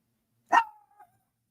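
A single short dog bark, sharp and clear with a faint trailing whine, then silence.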